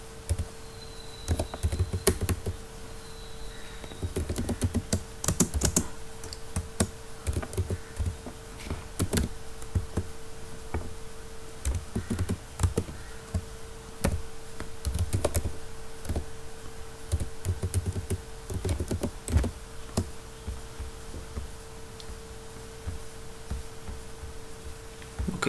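Clicky bursts of typing on a computer keyboard, close and fairly quiet, with irregular runs of keystrokes and short pauses over a steady faint hum.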